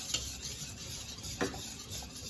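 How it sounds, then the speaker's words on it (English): Beef broth whisked into gravy in a pan: a soft, quiet rubbing and swishing of the whisk with a couple of light taps against the pan, brief and without voices. "now we are whisking in the beef broth"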